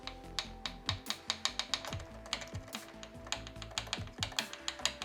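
Rapid, irregular plastic clicking and tapping as a loose Kugoo Kirin S1 electric scooter controller knocks against metal bolts, close and fairly quiet, over a faint steady hum.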